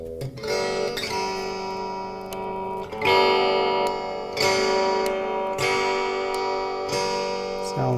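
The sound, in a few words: electric guitar being tuned after rewiring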